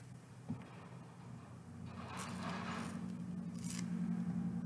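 An orange being peeled by hand after its top is cut off, with soft tearing and scraping of rind that builds gradually into a steady close-up rustle, quiet and with no talking.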